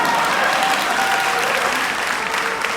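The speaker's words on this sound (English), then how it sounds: "Give him a round of applause for showing up." An audience at the Alpha Beautillion event bursts into dense, sustained applause, a steady wash of close clapping with a faint murmur of voices underneath.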